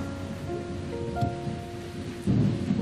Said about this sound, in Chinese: 那个，外头打雷了，还闪电，